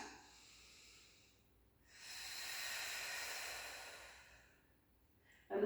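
During a stretching routine, a person blows breath out in a long, soft, airy exhale that swells and fades, with quieter breathing before and after.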